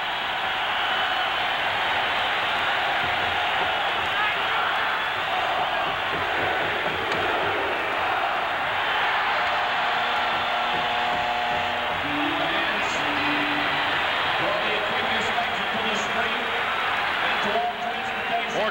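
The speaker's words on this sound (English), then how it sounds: "Listen to the crowd." Sustained roar of a hockey crowd cheering at Madison Square Garden during a 1981 Islanders–Rangers NHL game, dense and continuous, with faint tonal sounds emerging midway.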